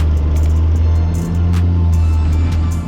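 A Mercedes CLS 550 with a twin-turbo V8 on a test drive gives a steady, loud low engine drone and cabin rumble that holds throughout, with a slight dip in the middle.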